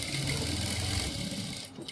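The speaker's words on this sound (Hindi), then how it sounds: "अब जो इसका किनारा है, ये किनारा है, इस जगह पे हम सिलाई मार रहे हैं इस तरह से" A sewing machine stitching piping onto a suit runs in a fast, steady mechanical rattle, close and loud, then stops abruptly near the end.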